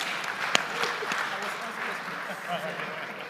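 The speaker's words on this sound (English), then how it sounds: "Please, a round of applause for him." Audience applause at an afternoon session of the World Trade Centers Association general assembly, a steady broadband clapping wash with a single sharp clap near the start, moderately distant and sustained throughout.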